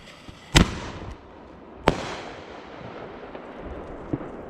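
Two sharp bursts from miniature canister shells, fake ball shell fireworks with their hemispheres removed, crack outdoors about a second apart, each ringing out in a long fading tail. A faint third pop lands near the end.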